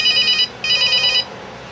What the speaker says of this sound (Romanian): Sună telefonul ăsta